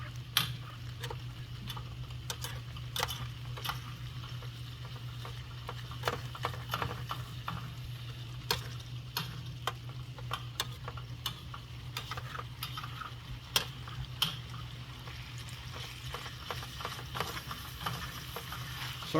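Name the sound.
stirring onion into a meat mixture in a pan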